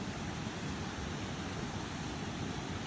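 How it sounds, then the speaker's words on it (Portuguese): A small waterfall, a little cascade by a pond, makes a soft, steady wash of water that is faint and distant, with some wind noise and no speech. "Aí, mais uma cachoeira. Quer dizer, tá tão assim não, né? Quedinha d'água ali."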